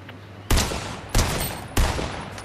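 Three sharp, loud sniper rifle shots from Fortnite's semi-auto sniper ring out alone at roughly half-second spacing, each with a short decaying tail.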